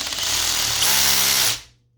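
A Makita cordless screwdriver-drill whirs loudly at its high torque setting, one steady motor whine held for about a second and a half, then spinning down quickly to silence.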